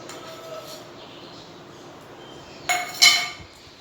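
Coins clinking into a kalash pot during a Ganesh sthapana puja, with a couple of bright metallic clinks near the end over a quiet room background.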